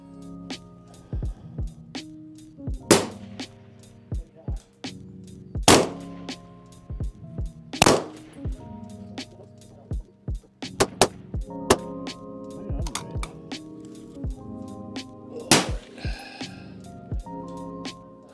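Rifle shots from a Ridgeline Defense RD-15 LPR fired at a 400-yard target, about ten sharp, loud reports spaced a couple of seconds apart, with background hum and tones between shots.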